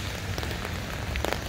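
Soft, steady patter of rain on a surface, close by, with a few sharper drops standing out.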